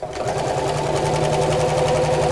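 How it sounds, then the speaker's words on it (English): A sewing machine stitches across the top and down the sides of a fabric drawstring beach bag, running at a steady fast whir, close and loud throughout with no voice over it. "All I'm going to do here is to sew across the top and a little way down the sides to hold it in place."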